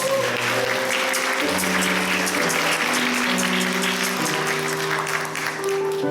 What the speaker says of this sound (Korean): 박수 한번 환영해주실까요?